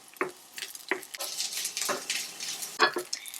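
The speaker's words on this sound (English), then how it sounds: "And stir that around." Minced mushrooms are stirred with a spatula in a hot pan with a little oil, making a soft sizzle under repeated scraping and tapping strokes close by.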